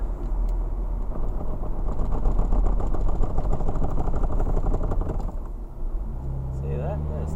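A 2006 Toyota Tarago with a brake fault gives a loud, continuous rattle and clatter over road and engine noise for about five seconds, then eases as the van slows, with a rising tone near the end.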